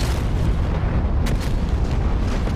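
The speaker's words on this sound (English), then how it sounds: "Bombs down from us." Bombs exploding on an airfield runway in a war video game, a continuous heavy rumble of booms, loud and dense with no clear breaks.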